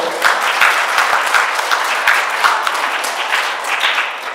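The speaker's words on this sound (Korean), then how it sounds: "박수 한번 칠까요?" Dense, steady applause from a congregation at a Catholic prayer meeting, a continuous wash of clapping with a few distinct near claps, sustained without talk.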